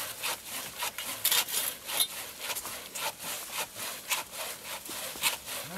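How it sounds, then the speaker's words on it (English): Two hand saws cut through a fallen tree on a mountain trail, a fast, overlapping rasping back-and-forth with bright scraping strokes in a steady rhythm, moderately close, with no talking. "this is how you saw when you don't have a chainsaw"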